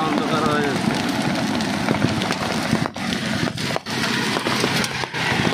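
A sudden hailstorm pelts the area around the fertilizer factory at Fenchuganj, Sylhet, with a thick, continuous clatter of hailstones and a few brief dips, while someone talks over the din.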